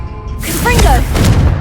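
A Confringo blast spell in Hogwarts Legacy, a loud close explosive boom with a heavy low thud and a short crackling burst, overlapped by a voice.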